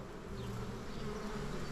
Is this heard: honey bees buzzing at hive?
yes